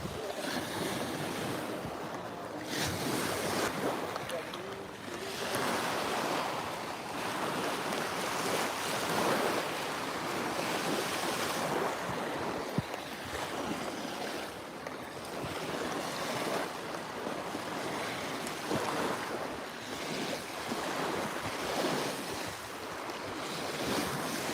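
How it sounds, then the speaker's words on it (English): Waves roll and break on a beach near Toronto in a continuous surging wash, with gusts of wind buffeting the microphone throughout and no one speaking. "That water sound is awesome."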